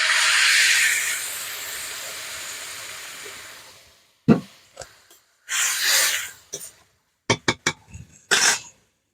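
A loud hiss of water poured into a hot pan of sautéed drumstick flowers and vegetables lasts a few seconds, then fades to quiet, followed by scattered short clatters and rustles of cookware.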